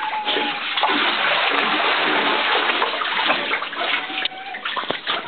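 A pitbull thrashes and splashes in a bathtub of running water, a loud, dense continuous splashing and gushing with sloshing surges, close up, without voices.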